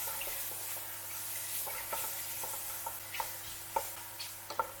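Mushrooms sizzling quietly in a frying pan with scattered small high pops and crackles, steady and close, no voices.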